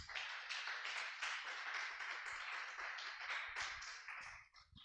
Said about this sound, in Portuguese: Diga a glória a Deus e vamos aplaudir a Jesus.